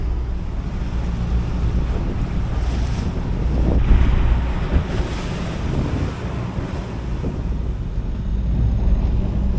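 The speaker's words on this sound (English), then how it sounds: "the winds just started to really hook in" Strong wind roars across the microphone while waves slosh and surge against a sailboat under way along the coast, a loud, continuous buffeting wash with no voices.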